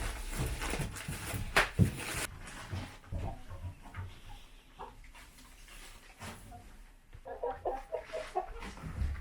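Chickens clucking and squawking in a backyard coop, scattered close calls with rustling and thumps between them, busier at the start and again near the end, with no speech.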